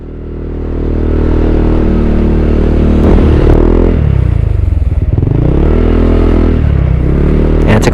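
A Honda ADV 160 scooter climbs the road up Mount Olis, its engine droning loud and close with rising and falling revs and some clatter from the ride.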